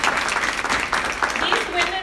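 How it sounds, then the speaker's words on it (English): An audience applauds panelists at a professional women's procurement event, a steady wash of clapping with voices audible over it throughout. "Let's give them a round of applause."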